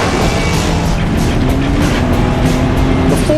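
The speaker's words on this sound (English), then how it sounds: "it was the perfect time to get behind the wheel of an automobile" Car driven at full throttle on a backcountry road near Telluride: a loud, steady engine drone with wind rush, continuous and close with no voices.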